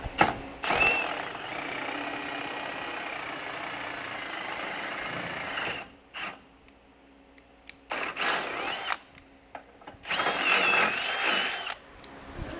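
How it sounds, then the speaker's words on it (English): A power drill whines and grinds through metal in three bursts, the first long and steady, then two shorter runs separated by pauses, close and loud, while installing a base plate on a 2026 Ford Escape. "we are going to have to drill out these 2 holes"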